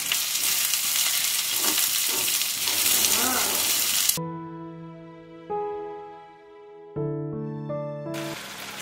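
Chopped onion frying in a pan for a kids' tiffin box recipe gives a steady, close sizzle for about four seconds, then stops abruptly and gives way to a run of melodic musical tones.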